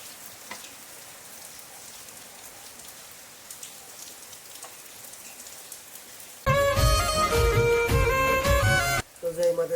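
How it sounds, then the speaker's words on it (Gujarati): Morning rain falling steadily in a soft, even patter for about six seconds, then music abruptly takes over loudly for the rest. "સવાર સવારમાં વરસાદ પણ"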